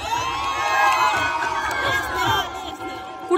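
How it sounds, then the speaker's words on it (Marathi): A crowd cheers and shouts loudly and steadily for the box cricket winners at a college annual function, a dense roar of voices with whoops that holds throughout. "हे टाळ्या वाजवा"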